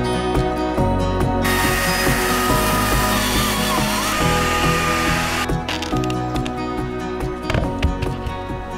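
A STIHL MSA 220 T battery chainsaw cuts into wood, its motor whining loud and steady for about four seconds between quieter stretches of mixed background noise.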